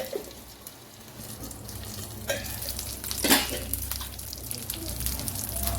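Fish pieces fry in oil in a pan, a steady close sizzle with occasional sharper crackles and clinks of a utensil, fairly quiet, with brief faint talk.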